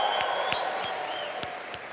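Applause from an audience honouring a newly promoted regional vice president at a leadership event, steady dense clapping with sharper individual claps standing out, continuing evenly for the whole stretch.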